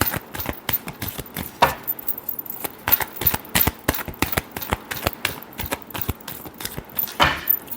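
Tarot cards are shuffled by hand, giving a rapid, crisp run of close flicks and riffles that comes in uneven bursts, loud and near.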